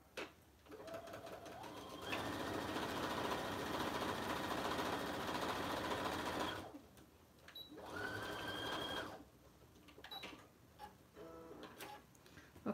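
A sewing machine stitches a messenger bag in two bursts, a long run of fast, steady whirring and needle ticking, then a pause and a shorter second run, with quiet handling clicks between.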